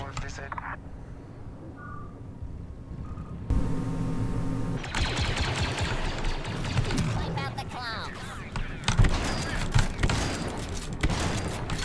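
Rapid bursts of gunfire and booms from the Star Wars Battlefront II video game, fired in ongoing volleys across the scene, with a person talking over the shooting.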